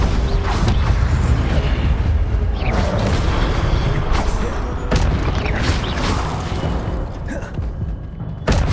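An Incendio fire spell in Hogwarts Legacy: a loud, continuous roaring rumble of flame and bursts with sharp crackling flares, dense and close throughout.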